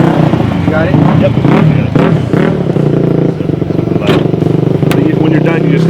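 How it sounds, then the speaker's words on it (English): A third-generation Toyota Tacoma TRD Off-Road engine rumbles with a deep, throaty exhaust note and rises in brief revs, close and loud, with people talking over it. "gave it like a nice throaty exhaust sound"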